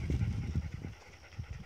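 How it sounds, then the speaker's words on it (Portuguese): Dogs running up on a sunny rural farm, with quick rhythmic panting breaths and soft footfalls close by in a short burst. "O barulho é os cachorros que vem correndo."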